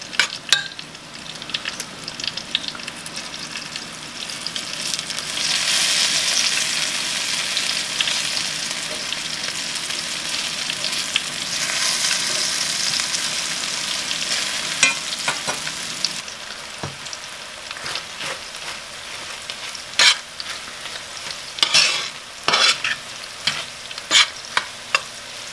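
Fried corn sizzles steadily in a hot pan while a utensil stirs and scrapes through it, with repeated clinks and scrapes over the constant close frying hiss.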